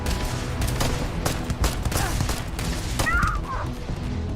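Rifle gunfire in Starfield: a loud, dense run of repeated shots at an uneven rhythm, close up over constant combat noise, with a brief tonal chirp late on.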